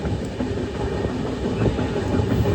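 Heard from on board, a passenger train from Ahmedabad to Haridwar gives a continuous low rumble with steady rolling rail noise and no voices.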